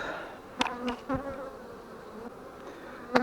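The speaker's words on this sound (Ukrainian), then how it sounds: "Так, ну дуже злі бджоли, звісно." Angry honey bees buzz close by at a hive abandoned for two years, with several sharp, loud passes of individual insects darting near.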